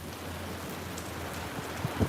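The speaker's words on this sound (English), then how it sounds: "it just pours like it's been raining all day and the sun was just shining" Heavy rain pours down while the sun shines in a small beach town at Gros-Islet, St. Lucia, a dense, steady roar with a few faint low rumbles near the end.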